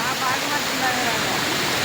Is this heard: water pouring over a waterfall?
yes